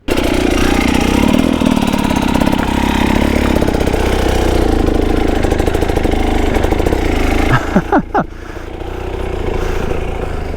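A motorcycle engine runs in soft sand, a loud steady close idle with rough low thrum, then a few quick throttle blips with falling pitch before it settles again; no talk.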